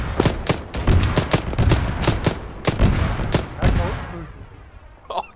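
Loud, close gunfire in the military video game ArmA: rapid irregular bursts of sharp shots cracking one after another for several seconds, then tapering off into quieter ambience.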